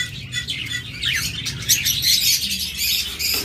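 Pet budgerigars, diamond doves, lovebirds and cockatiels chirp and tweet busily at a bird sale, with many overlapping bright calls running continuously at moderate loudness.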